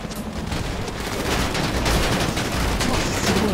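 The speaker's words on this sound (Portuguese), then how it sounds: "tiro, tiro!" Rapid bursts of gunfire in the game GTA V on Xbox One, a dense stream of shots filling the mix, loud and continuous, with excited players' voices faintly underneath.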